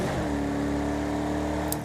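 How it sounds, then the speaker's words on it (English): In the racing game Project CARS 2, a car engine drones at a steady pitch for the whole clip, loud and continuous, with a brief flicker near the end as gears are shifted. "if you try and shift through the gears"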